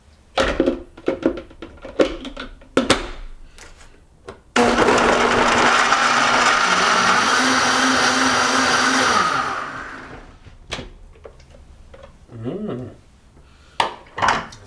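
A countertop blender whirs through a papaya green smoothie, starting abruptly with a loud, steady motor roar that runs about five seconds, then winds down; scattered knocks and clatter come before and after.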